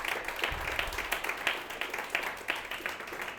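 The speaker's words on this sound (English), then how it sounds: "Let's give another big round of applause to the panelists." An audience claps for panelists after a panel discussion on workforce solutions for decarbonizing buildings, held in an indoor training space. The applause is fairly faint and distant, a loose patter of hands that holds steady throughout.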